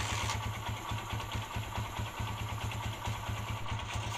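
A Honda TMX 155 motorcycle engine, freshly fitted with a new stator, runs at a steady, loud idle with a regular low thumping pulse close by, no talk over it.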